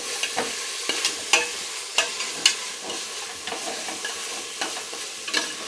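Ginger garlic paste fries in a pan for Hyderabadi bagara rice, a steady close sizzle broken by regular scrapes and taps of a spoon stirring, with no voices.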